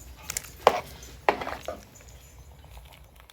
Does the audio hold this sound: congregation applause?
no